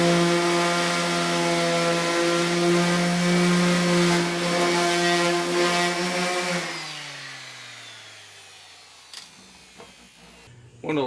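A power sander works the body panel of a 2006 Fleetwood Niagara pop-up camper, a loud steady buzzing whine that holds for about six seconds, then winds down and stops, followed by a few faint knocks.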